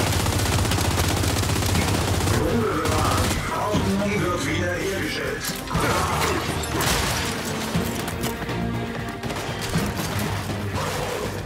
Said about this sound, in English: these guys are shooting me up while I'm trying to charge this up